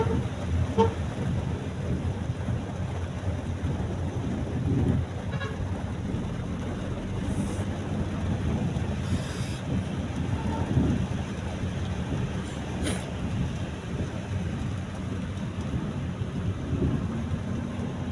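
Steady outdoor rainfall with occasional low rumbles of thunder, a continuous broadband wash that stays fairly even throughout, with faint distant vehicle or horn-like sounds now and then.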